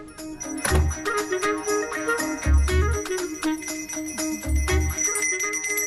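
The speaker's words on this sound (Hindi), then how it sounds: "मुझे जल्दी आओ बोल के यहाँ पर घंटी बजा रहे हो" A bell rings on its own in a horror film scene, with bright metallic strikes and shimmering tones repeating across the stretch, punctuated by three deep low thuds; no speech.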